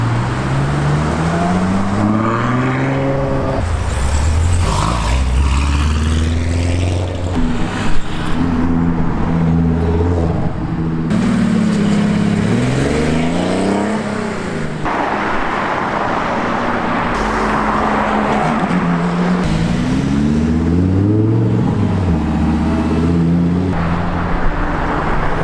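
A Ferrari F40 on a winter street in London, its engine revving loudly with rising and falling gear pulls as it passes close by, amid steady road traffic noise throughout.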